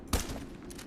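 A single sharp blast from a video game shotgun, one quick loud report followed by a brief rumbling decay.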